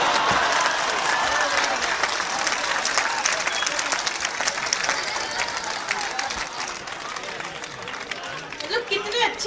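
Audience at a Hindi comic poetry gathering (hasya kavi sammelan) breaking into dense, sustained clapping that holds steady throughout, with faint crowd murmur mixed in.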